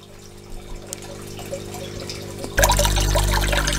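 An aquarium water filter switches on and starts running, water gurgling and pouring out in a loud, steady broadband rush after a quieter stretch of faint trickling and drips.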